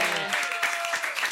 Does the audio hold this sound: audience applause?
yes